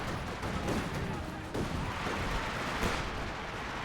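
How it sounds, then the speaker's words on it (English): Heavy mortar artillery fire in Company of Heroes 2, with dull thumps and crackling gunfire in the middle distance, running steadily under a voice. "Heavy mortars can definitely lay down some pretty devastating artillery fire against any German player."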